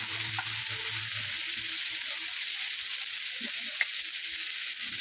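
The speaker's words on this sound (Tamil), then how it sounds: "தக்காளி கொஞ்சம் நல்லா வதங்கட்டும்." Tomato sautéing in a pan for a gravy made from leftover idli, a constant hissing sizzle with a few faint stirring knocks, close and steady throughout, no talking.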